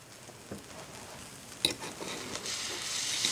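Food sizzles softly on a Foreman grill while a makeshift spatula scrapes and stirs, with a sharp clack near the middle and the frying hiss swelling louder toward the end.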